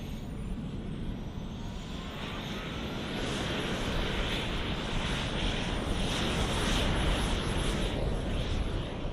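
A turbine-powered model aircraft flies at the Popham model airshow; its thin, high jet whine glides and rises over a rumbling roar that builds louder partway through.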